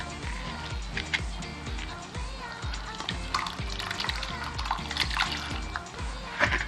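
Liquid poured slowly into a pot of jollof rice, a soft continuous trickling and light splashing with small bubbling bursts, steady and close throughout.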